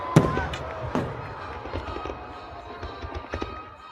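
Fireworks go off during a Fourth of July holiday celebration, with sharp distant bangs and crackles scattered unevenly over an outdoor background.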